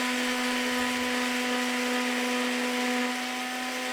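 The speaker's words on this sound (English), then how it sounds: "So after cutting it out, I'm now going to be sanding it." A steady, continuous power-tool whine with a constant hum: an electric sander running on a wooden template for an arcade cabinet build, with no pauses and no talking.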